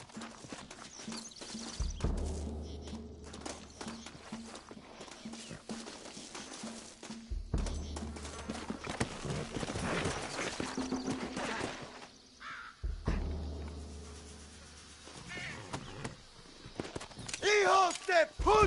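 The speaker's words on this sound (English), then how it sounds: "Looks like Carlos left us some horses." Horses clip-clop and gallop in Red Dead Redemption, their hoofbeats coming in rhythmic bursts over a long stretch with game sounds, crows cawing, and voices speaking throughout.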